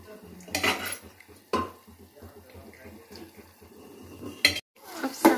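Mutton pieces tipped into cooked masala in a pot and mixed in, with metal spoon clatter and pot knocks in bursts, brief scraping between, fairly close and moderately loud.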